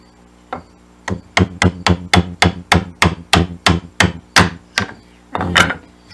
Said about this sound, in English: while holding the chisel, gently tap down